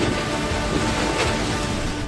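Heavy rain and roaring storm wind from Cyclone Biparjoy on the Gujarat coast, a loud, continuous rush with low rumbling gusts and no talking.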